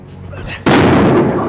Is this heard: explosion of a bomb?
yes